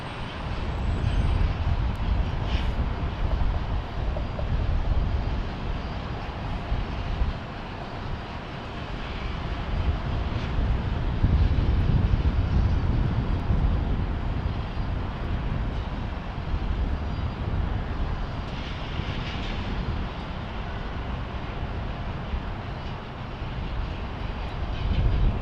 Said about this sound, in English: we check out this A330 being pushed back